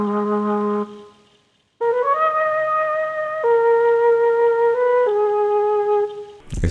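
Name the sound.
flute preset melody with reverb and muffled EQ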